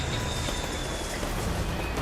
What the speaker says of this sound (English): It makes a routine rail journey through the heart of London.